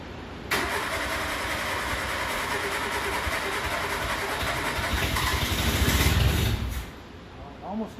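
A Renault Le Car engine cranks and catches, a loud steady churning running about six seconds before dropping off near the end, with a brief faint voice at the close.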